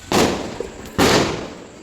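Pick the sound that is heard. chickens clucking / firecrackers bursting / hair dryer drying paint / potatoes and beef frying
firecrackers bursting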